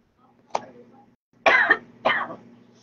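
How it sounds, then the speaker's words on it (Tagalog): A person coughs and clears their throat three times, one short cough followed by two longer, raspy coughs, close and alone. "inuubo ako"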